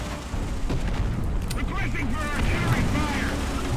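Artillery shells exploding in War Thunder, with an M10 Wolverine tank on the battlefield; dense, continuous rumbling booms fill the whole stretch at steady loudness while voices talk over them.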